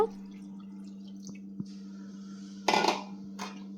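A brief splash of water into a metal pot of cabbage, with soft drips and a clink, over a steady low hum.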